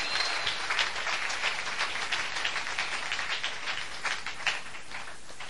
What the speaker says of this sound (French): Est-ce que nous pouvons acclamer pour la parole de Dieu?